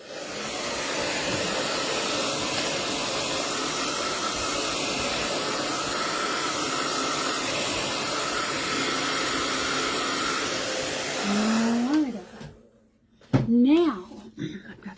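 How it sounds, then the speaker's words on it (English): A hair dryer blows steadily on a craft project, a loud continuous whooshing hiss for about eleven seconds that then cuts off, after which a person speaks briefly. "Let's give this a dry real quick."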